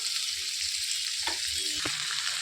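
Onions fry in a pan for an amaranth-leaf curry, giving a close, steady sizzle broken by a couple of brief clinks or stirring scrapes near the end, with no voices.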